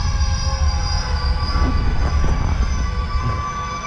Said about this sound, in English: Oh, train's put on the brakes.